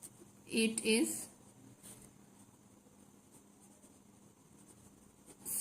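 A maths solution is written by hand in short, scratchy strokes in a quiet room. A voice briefly cuts in over the light writing sounds.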